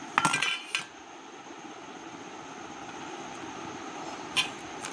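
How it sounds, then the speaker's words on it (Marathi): Fresh coconut flesh scraped from the shell with a knife or spoon, heard as a few sharp metallic scrapes at the start, a steady low rumble of background noise, and one more scrape near the end; no talking. "अशा प्रकारे चाकूच्या किंवा चमच्याच्या सहाय्याने तुम्ही बघा अशा प्रकारे खोबरं काढून घ्या"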